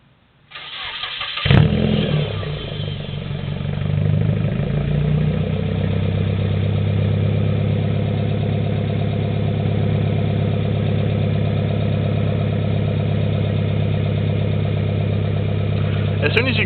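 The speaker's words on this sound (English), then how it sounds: "As soon as you crank the car up, that initial exhaust note is pretty loud." A Nissan S13 with a KA24D engine and a dual 3-inch straight-pipe catback exhaust cranks, fires up loudly and settles into a steady, rumbling idle that continues to the end, with a blip near the finish.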